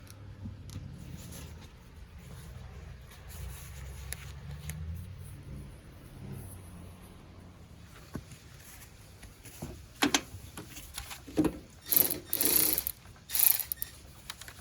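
A ratchet removing long tube header bolts on a 1995 Chevy Tahoe with an LS swap gives faint mechanical clicks and shuffling, then louder bursts of quick ratcheting clicks near the end.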